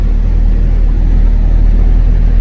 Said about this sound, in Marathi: स्पेशल गिअर टाकायला लागला गाडीला तवा चढली.